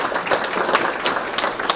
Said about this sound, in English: So I think let's give them another round of applause.